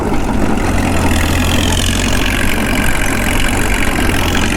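Caterpillar D2 crawler tractor engine running under load, a loud, steady, rough diesel drone with a knocking texture that carries on unbroken throughout.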